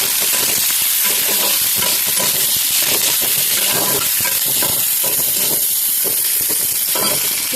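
Onions frying in oil in a kadai, a loud continuous close sizzle and hiss with scraping and stirring running the whole way through, no talk.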